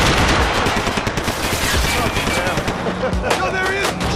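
Loud, close gunfire in the Max Payne 3 shooter, rapid automatic bursts cracking over dense combat noise for several seconds, with no voices in the clip.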